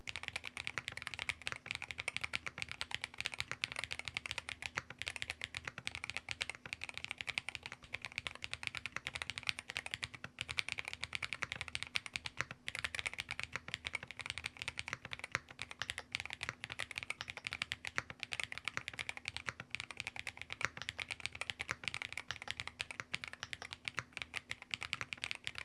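Rapid, continuous typing on a Black Diamond 75 RT mechanical keyboard with magnetic switches, a dense stream of crisp key clacks close to the microphone, with no voices.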